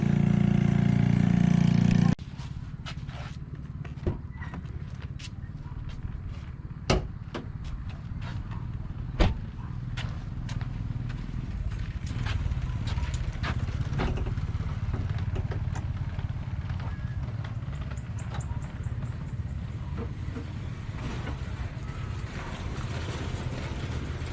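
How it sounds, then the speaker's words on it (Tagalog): A tricycle engine droning steadily as it passes on a street, a continuous low rumble that holds for the whole stretch with a few sharp knocks and no talk. "Tigil muna natin, may tricycle."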